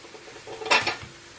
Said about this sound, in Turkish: Ardından doğramış olduğumuz sebzelerimizi tavamıza ekleyelim.